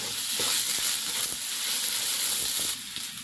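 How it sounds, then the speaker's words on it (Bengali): Bay leaf, panch phoron, dried chili and tomato sizzle in hot oil, a loud, dense, continuous crackling hiss with a few faint stirring knocks, close up. "এখন তেলে তেজপাতা পাঁচ ফোড়ন শুকনো লঙ্কা দিয়ে টমেটো দিয়ে নেড়ে চেড়ে"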